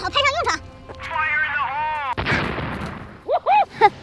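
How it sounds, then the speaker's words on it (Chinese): A spicy eye grenade in a comedic skit goes off in one sudden booming burst that fades into a hiss. It follows a whistling, warbling tone, and excited voices sound before and after it. "还好前两天啊买了一个辣眼睛手雷，它爆发了之后会让眼睛短暂的失明"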